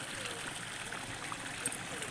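Water flows through a channel into green village rice fields, a faint steady trickling and gurgling stream heard close with a small splash.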